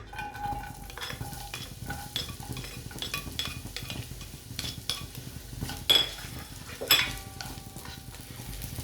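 Onions stirred and sautéed in hot oil in a pan for biryani, with steady sizzling under repeated scraping and clinking of a utensil against the pan, two louder knocks near the end.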